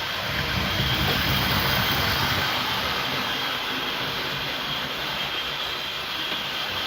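Loud, continuous mechanical roar and hiss of a running model steam locomotive, close by and steady throughout with no voices.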